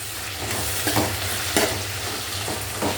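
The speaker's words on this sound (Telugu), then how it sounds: "ఒక 5 నిమిషాలు ఆయిల్లో మంచిగా ఎర్రగా వేగాలి వంకాయలు" Brinjals frying in oil with curry leaves, a constant close sizzle with a low hum beneath and a few soft stirring scrapes spaced apart, no voices.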